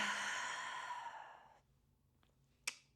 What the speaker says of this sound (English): Last one, like a big exhale